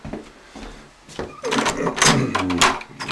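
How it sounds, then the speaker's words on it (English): A house's front door opens with a short click and a creak at a Spokane home, followed by fumbling and rustling noises. Faint background voices can be heard as the scene shifts outdoors. "I'd open this door here. Well, this is going out our front door."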